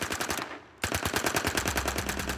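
Machine guns fire in rapid bursts, a dense train of sharp, loud reports that stops briefly, then resumes in a steady hammering stream.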